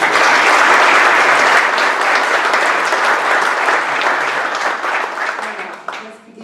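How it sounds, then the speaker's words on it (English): A large audience at a pitch contest applauds loudly and steadily, the dense clapping holding strong before thinning out toward the end. "big round of applause for our power"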